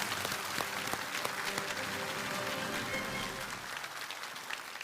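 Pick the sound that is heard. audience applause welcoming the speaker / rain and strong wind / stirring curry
audience applause welcoming the speaker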